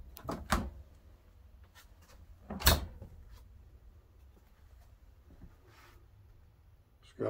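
A pull-out drawer in a 13-foot trail boss camper conversion slides and thumps shut with a couple of sharp knocks, quieter rustling in between, in a small indoor space.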